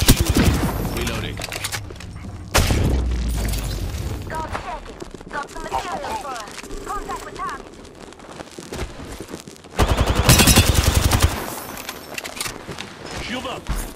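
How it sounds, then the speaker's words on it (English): Gunfire in Apex Legends, rapid bursts of automatic shots with heavy loud volleys near the start and again later, mixed with game voice lines and effects. "Being shot at"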